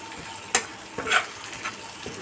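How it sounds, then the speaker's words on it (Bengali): Onion frying in oil with Kashmiri chilli, turmeric, salt and green chillies for a pabda fish curry, a low sizzle broken by a few sharp spatula scrapes and clicks, close by and without talk. "পেঁয়াজটা ভেজে নিচ্ছি"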